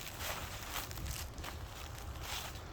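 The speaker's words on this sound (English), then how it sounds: "That noise is actually me going through the leaves" Footsteps crunch and rustle through dry leaves in a graveyard at night, a continuous soft crackling shuffle at close range over low background noise, with no talking.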